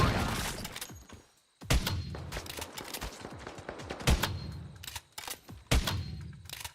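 Gunshots in a video game ring out as several loud, sharp reports at irregular intervals, each trailing off into echoing debris and rumble, with no talking.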